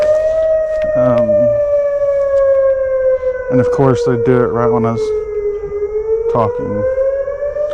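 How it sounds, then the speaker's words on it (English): A weekly tornado civil defense siren test wails loudly and steadily, its tone slowly sliding down and back up, while a person talks over it in bursts. "That's just the tornado siren because it's Wednesday"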